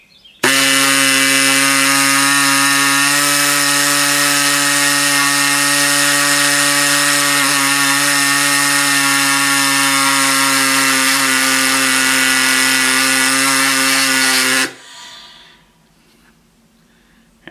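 A saw with a fairly fine blade cuts through an LSx series intake manifold that is being shaved. It makes a loud, close, steady high whine for about fourteen seconds, then cuts off abruptly into quiet.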